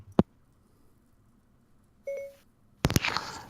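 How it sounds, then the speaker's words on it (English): A phone goes off with a short electronic beep tone, set between sharp clicks and a brief burst of clatter against a quiet background. "Also, your phone's going off again."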